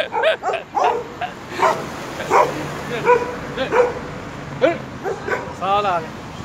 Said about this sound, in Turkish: Köpeklerin saldırısına uğradık.